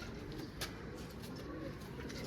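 Domestic homing pigeons coo softly, a faint, brief murmur of low calls against quiet background noise.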